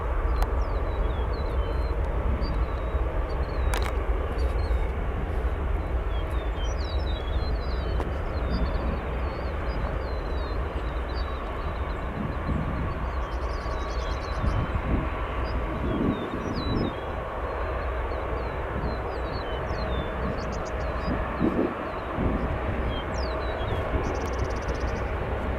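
A Spirit airliner departing O'Hare airport, a loud continuous roaring rumble of jet engines heard from a distance, steady throughout with faint background chirps and no talking.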